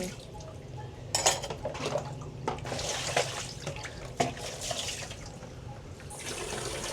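A tap runs slowly in a room, giving a soft continuous trickle with faint splashes and occasional clinks, fairly quiet and steady throughout.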